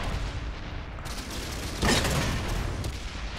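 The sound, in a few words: tank cannon fire in the video game World of Tanks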